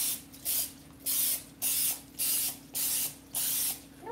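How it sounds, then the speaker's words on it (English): Nonstick release spray from a can, six short hissing bursts in an even rhythm with brief pauses between them, close to the microphone, with no talk over them. "We're gonna use some chemicals to ensure a nonstick release."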